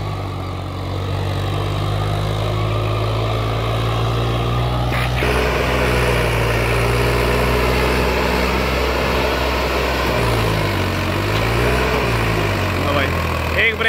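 Tractor engine pulling a harrow under heavy load during a field test, a loud steady diesel drone with low rumbling harmonics that dip and rise near the end, running continuously throughout.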